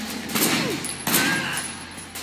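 Gunfire in the video game Sleeping Dogs: two loud shots about a second apart, each with a sharp onset and a long ringing, echoing decay, heard alone with no talk over them.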